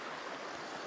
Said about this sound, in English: There's a little brook or stream coming down that's joining the River Leadnock here.